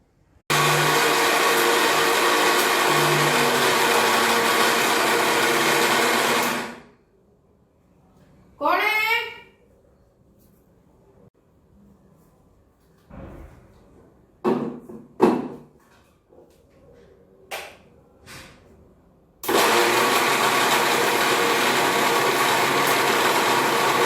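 A mixer grinder blends homemade chutney in two long, loud, steady whirring runs. Between them comes a quiet pause with a few clinks and knocks.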